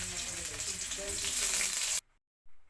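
Garlic dropped into hot cooking oil in a wok for pork binagoongan, a loud steady sizzle and frying hiss for two seconds that cuts off abruptly, followed by a brief quieter burst.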